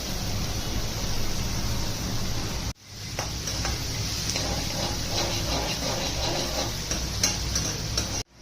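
Vegetables sizzle and cook in a pan for a home-made masala Maggi, a steady close frying hiss with faint scraping and ticking of stirring throughout, briefly cut off twice.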